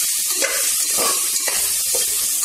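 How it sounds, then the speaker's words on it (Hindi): Chicken sizzles loudly in a pan while being stirred, with steady frying crackle and scraping strokes throughout. "अब इस पे आप चिकन मिला लीजिए। और एक मिनट तक पकाते रहिए।"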